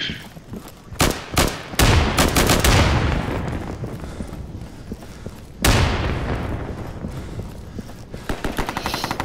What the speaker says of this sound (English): Strike grenade, heads down. I'm using a grenade.